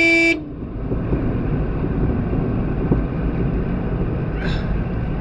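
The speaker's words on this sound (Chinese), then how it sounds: "我都给它按个喇叭，完了他们听到这个声音" A single short car horn toot sounds at the very start, followed by steady wind and engine noise outdoors, with a faint distant tone later.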